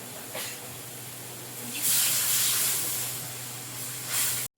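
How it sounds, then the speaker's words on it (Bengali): Water poured into a hot pan of salted fish curry sizzles and hisses, a loud surge of steamy hiss that swells, fades, then flares briefly again. "এবার জল দিয়ে দেবো"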